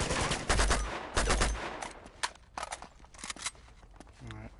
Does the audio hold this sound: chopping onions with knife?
no